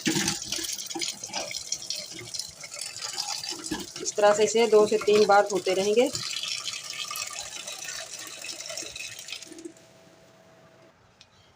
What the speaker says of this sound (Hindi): अब हम चलाएंगे खुला पानी।